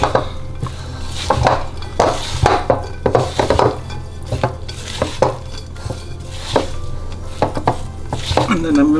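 A spoon works through a Christmas pudding mixture as mixed spice is sprinkled in, giving repeated rhythmic scraping and clattering strokes against the bowl, close and fairly loud.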